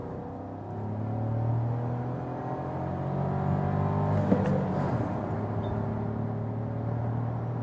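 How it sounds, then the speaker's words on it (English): An Audi Q2 facelift SUV accelerating from 50 to 100 km/h, a moderate cabin hum with a steadily rising engine tone and a brief click partway through, fairly quiet and without talk. "let's drop it behind a little bit, show you something of acceleration, 50 to 100,"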